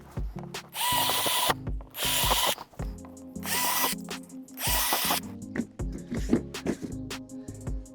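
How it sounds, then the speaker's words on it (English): A power drill bores holes in a quad bike. Several loud whirring bursts are separated by short pauses, with ratcheting and clicking sounds in between. "let's drill the holes and see if I mark it right."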